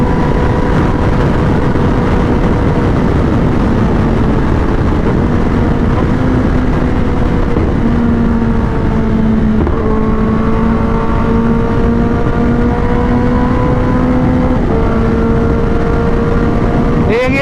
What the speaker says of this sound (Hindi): अच्छी गाड़ी है यार जीप